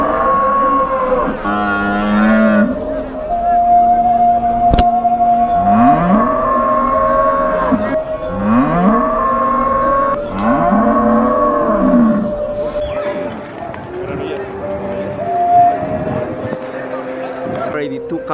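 Cattle at an animal market in Osh, Kyrgyzstan, give several loud, drawn-out moos one after another over a busy background of crowd noise and talk.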